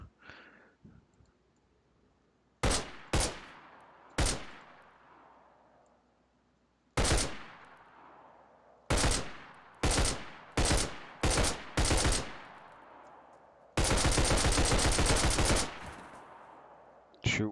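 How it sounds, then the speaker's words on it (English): Gunfire from the video game DayZ as zombies are shot: loud, sharp single shots spaced irregularly, then a quick cluster of shots and a sustained automatic burst near the end, each shot ringing out into a short decaying tail. "Then you just start shooting the zombies."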